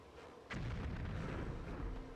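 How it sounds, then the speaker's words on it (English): A grenade blast in the Army Men video game, a sudden loud boom followed by a sustained rumbling roar that fills the rest of the moment. "Grenade."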